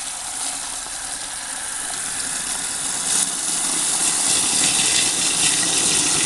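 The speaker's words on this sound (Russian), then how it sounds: "даже воздух бурлит" Water and trapped air gushing and gurgling through a home heating radiator as it is flushed through the bottom valve, a steady close rushing that grows slightly louder and busier toward the end.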